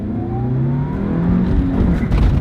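A quiet sports car pulls away from a standstill, its engine rising steadily in pitch and loudness as it accelerates, with a rumbling drone building throughout and no talking.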